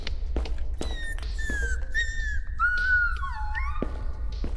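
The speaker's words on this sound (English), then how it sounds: "Oh, it's a puppy." A puppy in a horror-style video game whimpers and whines in a run of high, wavering, drawn-out cries with short yelps between them, close and fairly loud over a low background hum.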